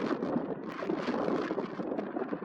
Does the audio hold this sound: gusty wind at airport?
yes